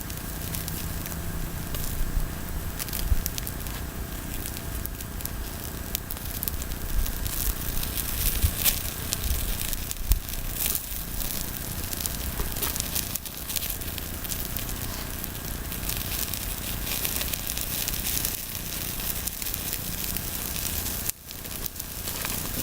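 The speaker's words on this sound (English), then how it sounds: "get my camera here of the grill and the snake cooking" An Aesculapian snake stuffed with hot peppers cooks on a grill over an open flame, giving a steady roaring crackle and sizzle with scattered sharp pops throughout.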